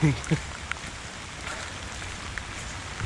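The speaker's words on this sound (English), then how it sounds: "it's just been pouring rain" Heavy rain pours steadily on surfaces around a cold-weather backpacking camp at East Fork State Park, a dense even hiss with a few louder drops near the start.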